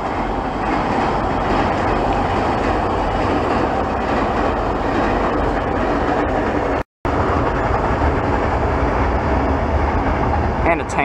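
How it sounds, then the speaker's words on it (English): A Sydney VSET eight-car passenger train rumbles steadily across the Meadowbank rail bridge, its loud, continuous wheel clatter and rail noise filling the scene nearby with a brief dropout midway. "here we have a VSET crossing the bridge for a Sydney Central Terminal service"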